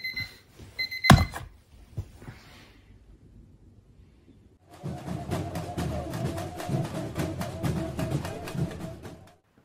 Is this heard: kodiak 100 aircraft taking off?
no